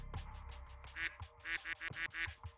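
A person imitates a duck with a string of nasal, raspy quacks, about seven or eight of them in uneven bursts. The voice is close and fairly quiet, with nothing else behind it.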